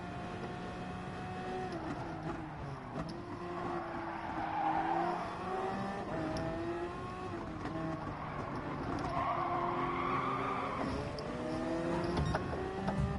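Race cars in a racing video game, engines whining through gear changes with tires squealing and skidding as cars jostle side by side, steady and fairly loud with no talking.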